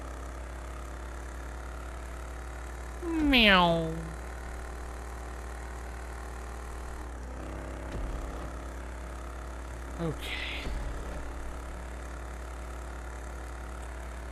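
The Rat Truck, a rusty 1939 Chevrolet-style pickup in GTA 5, idles with a steady low rumble throughout, while a voice gives a rising meow-like cry and later speaks briefly over the engine.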